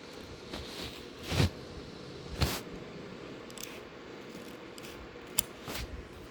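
Scissors cutting through a Vera Bradley convertible backpack, giving two distinct crunching snips about a second apart, then a few fainter clicks in a quiet room.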